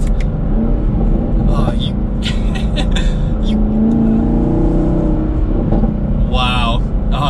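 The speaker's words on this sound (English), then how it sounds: "Oh, we got some pops in that exhaust." A 2021 Chevrolet Camaro SS 1LE's V8 engine rumbles and revs with sharp exhaust pops and crackles, while someone talks excitedly over it.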